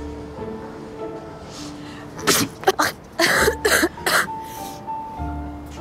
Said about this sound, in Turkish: Çok kötü öksürüyorsun sabahtan beri